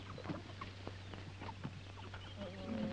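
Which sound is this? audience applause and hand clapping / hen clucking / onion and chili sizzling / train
hen clucking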